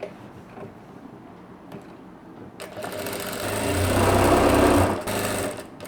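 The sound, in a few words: sewing machine stitching saree blouse hem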